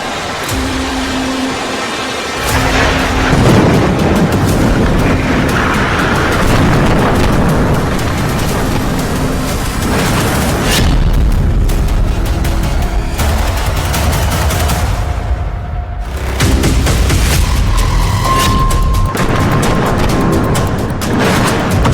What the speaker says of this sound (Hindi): न्यूज एक कार्गो शिप पर 2 मिसाइल धमाकों की है।